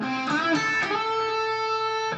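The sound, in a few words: electric guitar pentatonic lick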